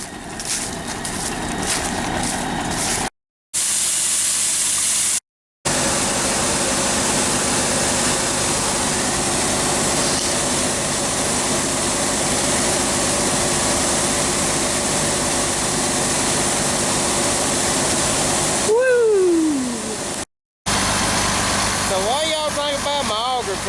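A heavy tractor engine drones continuously at close range during a white corn harvest, a steady low rumble with brief gaps and some higher whining tones near the end, with an 8-inch auger nearby.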